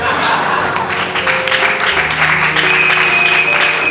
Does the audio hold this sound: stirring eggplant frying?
no